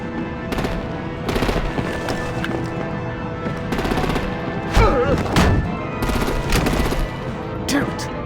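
Rapid machine-gun bursts and heavier artillery blasts from the video game Batman: The Enemy Within, loud and continuous, with louder explosive hits near the middle and end over a dense backdrop of game sound.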